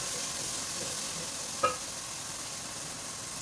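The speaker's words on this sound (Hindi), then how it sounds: "बस हमें इसकी भुनाई करनी है अच्छे से।" Kofta mixture of machine-minced keema with onion, green chilli, coriander, poppy seeds, gram flour and egg being stirred and fried in a pan, a steady close sizzle with one brief metallic clink partway through and no talking.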